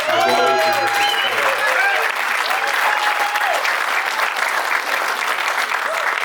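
A crowd at the 2021 Texas Water Safari safety meeting breaks into loud, sustained applause that carries through to the end, with a voice speaking briefly at the start.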